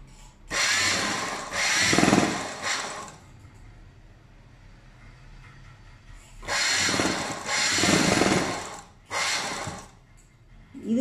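A sewing machine stitching a button piece of cloth during a tailoring lesson runs in two close, loud bursts of whirring mechanical rattle, each a few seconds long, with a quieter pause between and no talking.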